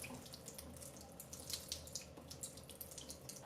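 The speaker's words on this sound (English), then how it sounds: "I'm going to water that one in the sink too" Tap water runs steadily into a sink while a houseplant, a maidenhair fern, is watered, making a close, continuous splashing hiss with small irregular spatters and no talking.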